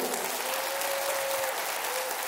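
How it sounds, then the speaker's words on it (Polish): Concert audience applause, a dense wash of many hands clapping at a steady, fairly loud level, with a faint sustained tone sounding beneath it. "Tu duże brawa by się przydały."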